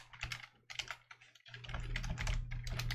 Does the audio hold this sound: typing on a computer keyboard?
yes